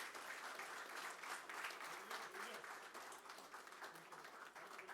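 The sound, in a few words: audience applause at MOU signing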